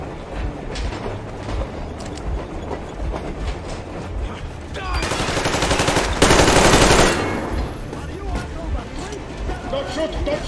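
Rapid bursts of automatic gunfire in the video game Metro Exodus rattle over a steady rumbling train-like background, peaking in a loud dense volley midway, with shouted voices mixed in.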